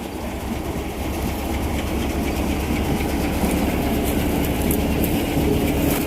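A tractor engine runs steadily during a soybean harvest, producing a loud, continuous rumble with mechanical clatter that holds for the whole stretch with no voices.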